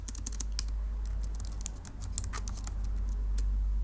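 Quick, irregular keystrokes on a computer keyboard, close and crisp, clicking continuously over a quiet low hum.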